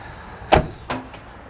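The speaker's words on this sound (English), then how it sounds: "We'll pop the bonnet and show you a few bits and pieces in there." Two sharp mechanical clunks, a loud near one followed by a softer second, as the bonnet of a Land Cruiser 79 Series is released and popped open.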